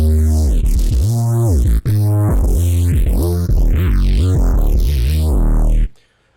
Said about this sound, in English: it's a playable neuro sound